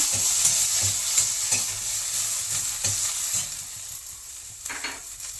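Ginger paste and small shallots sautéing in a pan, a steady close sizzle with repeated scraping stirs of a spoon throughout, no talking.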